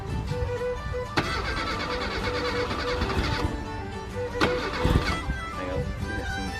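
A Reliant van engine cranks and catches, then revs under throttle, a steady mid-pitched running drone with sharp clicks and a brief surge near the end; muffled voices are faintly present.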